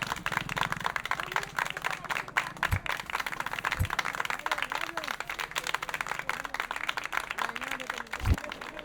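Crowd applause and clapping at a mass wedding ceremony, a steady busy wash of many hands with scattered louder thumps, mixed with a film soundtrack and some voices in the background.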